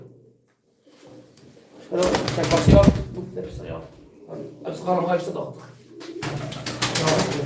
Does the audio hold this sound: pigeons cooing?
yes